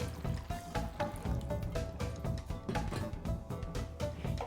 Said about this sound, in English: Pour a generous amount of warm water into the pot.